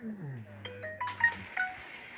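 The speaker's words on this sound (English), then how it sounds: "Oh, my notification." A phone notification chime plays as a short run of bright electronic tones, a few quick pitched notes over a low falling tone. It is faint and brief, with no talking over it.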